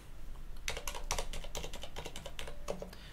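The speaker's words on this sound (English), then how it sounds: "This is a lot of typing." Steady, fast typing on a computer keyboard during an Arch Linux installation, a continuous run of close, crisp key clicks with no talking.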